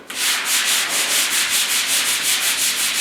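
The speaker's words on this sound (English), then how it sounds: "take a piece of 220 and just barely touch it." Light hand sanding of a 1956 Mercury cab's bodywork with 220 grit sandpaper, loud close rhythmic rasping strokes repeating about every fifth of a second.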